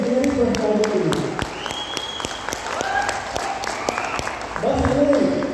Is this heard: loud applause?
yes